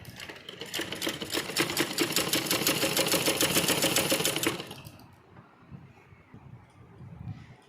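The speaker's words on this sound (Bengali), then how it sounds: "এখন আমি প্রথমে লম্বা সেলাইটা দিতে নিচ্ছি।" A sewing machine runs a long double stitch in a steady, rapid mechanical chatter for about four and a half seconds, then stops, leaving faint handling noises and quiet room sound.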